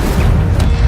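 The Incendio fire spell is cast in the Hogwarts Legacy video game, a dense, steady whooshing roar of flame with a low booming body, loud and continuous without clear breaks.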